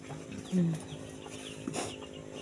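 A couple of short, low clucks from a chicken, close by, with quiet background murmur and no one speaking over them.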